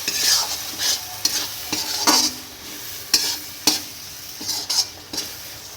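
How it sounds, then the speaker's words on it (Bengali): Khichuri is stirred in a pot, with a string of distinct scraping and clanking spoon strokes against the metal at an irregular pace over a faint simmer, close and fairly loud, no one speaking. "এটা আবার খিচুড়ির সঙ্গে ভালো করে মিশিয়ে নেব"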